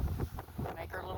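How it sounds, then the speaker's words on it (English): Gusty wind buffets the microphone outdoors by a lake, a loud low rumble that rises and falls over about a second with no clear voice. "Forgive the wind"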